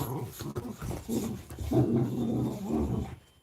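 Dogs play-fighting give close, rumbling growls with snarls and huffs in bursts that swell and fade, ending in a brief quiet.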